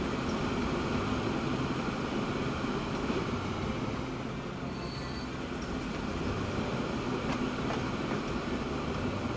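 Trains rumbling along the rails in the Transport Fever 2 game, a steady dense rolling drone with faint wheel squeal near the middle, continuous and fairly loud with no talk.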